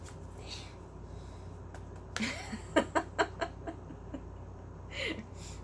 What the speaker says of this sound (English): I'm going to do my Virgin Shuffle on camera